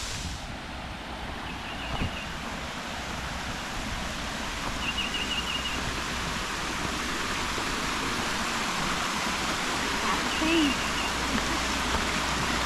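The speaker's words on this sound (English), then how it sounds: "There's another little waterfall over there." A little waterfall in an Ozarks cave area of Arkansas gives off a steady, broad rushing hiss that holds evenly throughout, heard from some distance.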